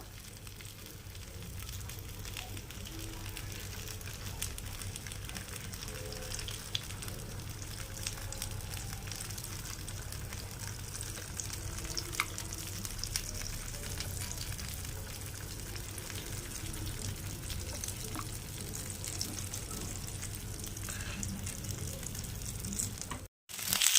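A whole fish roasts in oil in a pan, giving a steady, soft crackling sizzle for the full stretch with no voices, ending in a sudden brief cut.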